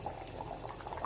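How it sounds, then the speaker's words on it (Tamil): Mutton curry bubbling in a pot on the stove, a brief run of soft, irregular burbling pops over a low simmering wash, close and fairly quiet. "நல்லா ஒரு 10 நிமிஷத்துக்கு இது நல்லா கொதிக்கட்டும்"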